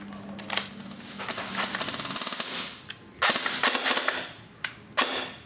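Krytac Kriss Vector AEG airsoft gun firing in quick bursts, sharp rapid clicking volleys with short pauses between them, close and fairly loud.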